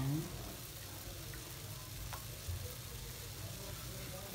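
Onion frying in hot oil in a pan alongside ginger, giving a steady, close sizzle that runs evenly throughout with no talk over it.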